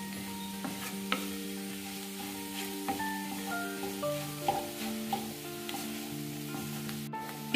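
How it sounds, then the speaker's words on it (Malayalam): Mussels fry in a pan for a Kerala-style kallumakkaya fry, giving a soft sizzle with occasional stirring scrapes under background music. "കണകല്ലുമ്മക്കായ നന്നായിട്ട് ഫ്രൈ ആയിട്ടുണ്ട്."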